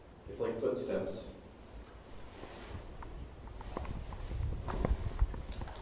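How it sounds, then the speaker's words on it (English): Soft footsteps in an old abandoned manor, a scattering of faint thuds and creaks, with a person speaking briefly near the start. "It's like footsteps."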